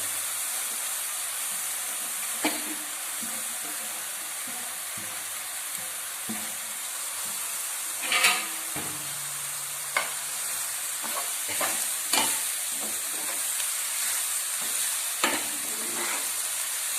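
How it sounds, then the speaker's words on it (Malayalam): Banana blossom thoran is stirred in a frying pan, a steady sizzling hiss broken by scattered scrapes and clinks of the spoon against the pan, with no one speaking. "വാഴച്ചുണ്ടും ചേർത്ത് നന്നായി ഇളക്കി വേവുവാൻ മൂടി വയ്ക്കുക."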